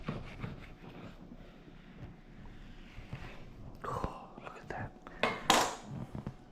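A knife slices through a big slab of belly pork with soft scraping and cutting strokes, bursts of crisp slicing noise near the end, faint clinks and low background noise throughout.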